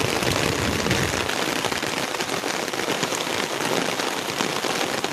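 Steady, dense rain pours down, hissing and pattering on surfaces without a break.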